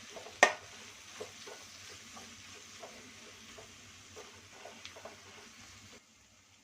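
A spoon stirs chili and coriander powder in a frying pan while faint sizzling runs underneath, with soft scraping strokes and one sharp clink near the start, all quiet and close.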